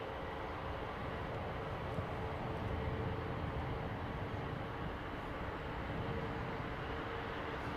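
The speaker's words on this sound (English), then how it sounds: "Wow, early liftoff for that 777." A Boeing 777 takes off in fog at London Heathrow, heard as a low, steady, distant roar of jet engines that holds at an even level throughout, with no talk over it.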